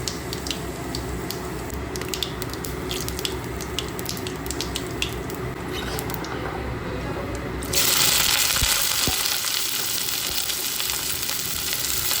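Continuous frying sizzle in a pan, joined partway through by a louder rush like running tap water, no talking.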